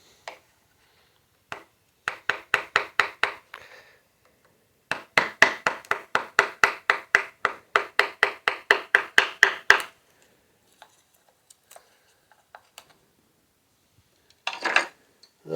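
Harbor Freight carving chisels cut V grooves into wood, making rapid series of crisp, close tapping and scraping strokes in bursts, separated by short pauses and a few isolated knocks.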